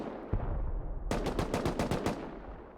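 AK rifle fire from a roof in the video game Rust, a loud single shot followed by a rapid burst of about eight sharp, evenly spaced rounds.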